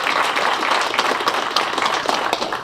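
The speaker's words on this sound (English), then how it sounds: "So let me get a round of applause for PR1 Powell for his rendition of the Nati" An audience at a retirement ceremony claps for a national anthem rendition, giving a dense, steady round of applause with no talking over it.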